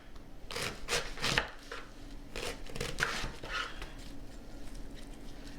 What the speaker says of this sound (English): I'm going to proceed to chop up my cabbage now.